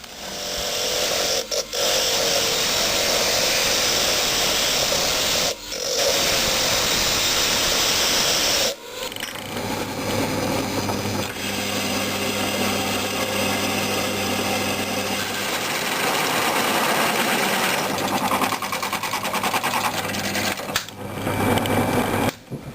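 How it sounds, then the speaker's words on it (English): Power drill boring a 6mm pilot hole, then opening it to 13mm, through a steel Jawa primary sprocket puller; a loud, continuous motor whine with grinding cut noise and a shift in tone partway through. "we're going to put a 6mm hole through the centre, and then we're going to open it out with a 13mm"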